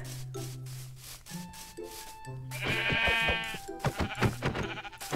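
Repeated sheep bleats in Minecraft, several short wavering calls, mixed with scraping and rubbing sounds, fairly close and moderately loud.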